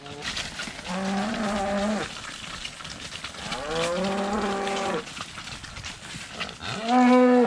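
Cattle on a farm lowing repeatedly as they are moved, several long loud moos from nearby over a rustling, breezy background, with occasional faint voices.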